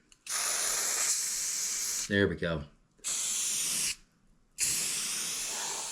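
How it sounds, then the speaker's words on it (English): An aerosol can spray-paints a rifle in close, loud hissing bursts, three long sprays separated by pauses, with someone speaking briefly between them. "So do a quick little spray and make sure that it's going good"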